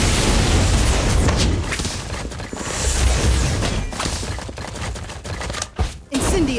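Rapid booming explosions from the Confringo spell in the video game Harry Potter Magic Awakened, loud dense blasts running together with a few sharp bursts near the end.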